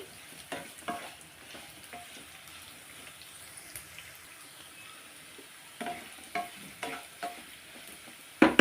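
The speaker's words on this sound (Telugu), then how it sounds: "సొరకాయ ముక్కలు బ్రౌన్ కలర్ వచ్చే వరకు వేయించాలి" Bottle gourd pieces fry in a pan until brown, giving a soft, low sizzle broken by scattered stirring clicks and scrapes that cluster near the end, with no talking.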